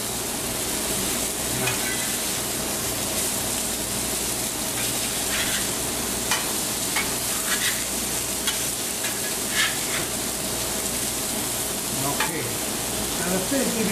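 Oysters and fish frying in a restaurant pan, a dense continuous sizzle up close with scattered crackles and pops, steady in loudness throughout.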